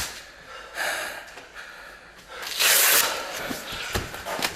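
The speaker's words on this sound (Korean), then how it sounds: "거친 숨소리." Heavy, rough breaths and gasps after an intense martial arts sparring bout come in uneven bursts, with a loud rasping exhale near the middle, close and fairly faint overall.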